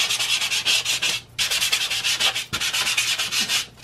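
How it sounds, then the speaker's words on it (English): Foam pad rubbed hard across pastel on a large painting, a loud, close, scratchy sanding sound in long strokes broken by two brief pauses, with no talking. "I'm going to just rub it in."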